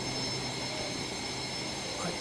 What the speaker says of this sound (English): Now that jet sounds a bit loud.